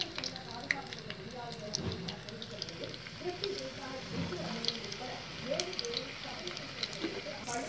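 Chili bajji coated in batter sizzles and crackles in hot frying oil, a steady soft bubbling with scattered pops and stirring clinks, quiet beneath someone speaking.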